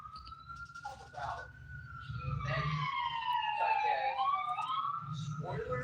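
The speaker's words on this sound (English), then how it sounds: "Sirens." A wailing siren rises and falls over steady background rumble, growing louder as it goes, with faint voices underneath.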